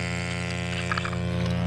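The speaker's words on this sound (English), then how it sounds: "I got my vacuum pump, which you can hear there." Vacuum pump running in a workshop during injector and engine harness installation on a 7.3 diesel, giving a steady, continuous electric hum with a faint whine, unchanging throughout.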